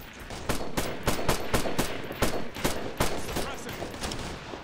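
Rapid bursts of automatic gunfire from the video game Operation Flashpoint: Red River, a dozen or so sharp cracks in uneven clusters, loud and close, with faint game voices underneath.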